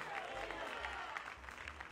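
A church congregation claps together during a service, a brief burst of fairly quiet, dense applause with crowd murmur underneath.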